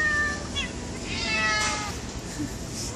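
Several cats meow in the background in a steady, noisy setting. The calls are short and come at different points, partly blended with the surrounding ambient noise.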